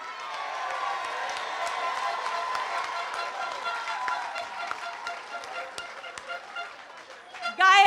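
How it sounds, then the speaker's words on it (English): A crowd at a political public meeting applauds with a sustained, fairly loud roar of clapping and some cheering. It grows patchier toward the end before a louder burst closes it. "They deserve the loudest round of applause you can give them."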